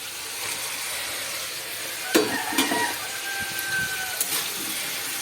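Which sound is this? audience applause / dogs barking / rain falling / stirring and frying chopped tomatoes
stirring and frying chopped tomatoes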